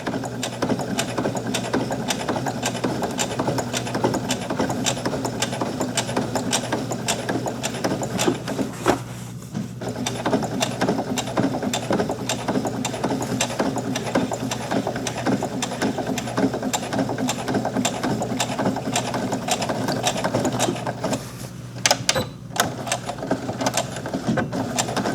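A sewing machine stitches through rattan with a steady, rhythmic mechanical clatter that runs almost without pause, broken only by a couple of brief stops, loud and close throughout.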